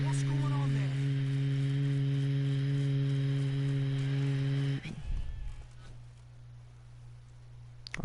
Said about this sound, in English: it sounds like I gave the goats a seizure